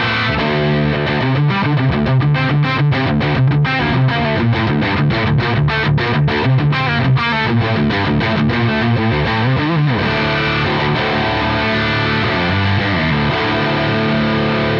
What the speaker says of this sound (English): It still has the dynamics. It's very distorted.